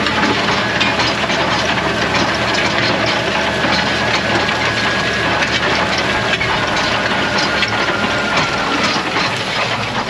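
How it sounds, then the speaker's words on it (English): A heavy tractor engine drones loud and steady throughout, straining while pulling disc harrows through hard ground, with constant rumbling and rattling, no pauses. "Hit a hard bit there, look, making the tractor work."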